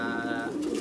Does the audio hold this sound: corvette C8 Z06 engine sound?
no